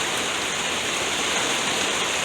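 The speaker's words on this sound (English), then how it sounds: "I hope that rain doesn't make too much noise in the background" Heavy rain bucketing down outside during an Australian winter downpour, a loud dense unbroken roar close by with no talking.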